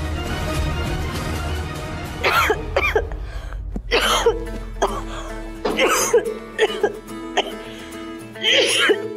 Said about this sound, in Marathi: म्हणजे खोकला पण झालाय वाटतं